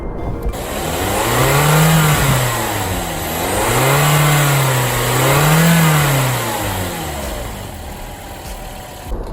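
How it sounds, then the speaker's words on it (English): A 2009 Toyota Corolla compact sedan's engine revs up and falls back in three smooth, rising-and-falling sweeps, heard alone and fairly close, then drops to idle. "You put your foot down, the power happens."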